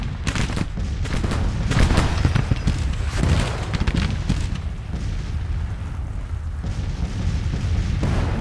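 Civil War artillery fire in Grand Tactician, a rolling barrage of booms and cannon shots layered over a continuous rumble of battle.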